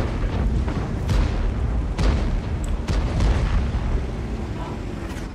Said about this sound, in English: Is there artillery? Yes, there is.